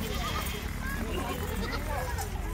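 Goats on a goat farm with kids among them, bleating in overlapping calls beneath near-constant talk, with some hoof shuffling mixed into the dense close-up herd noise.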